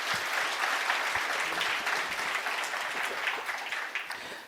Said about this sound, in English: A round of applause like that is not sufficient enough.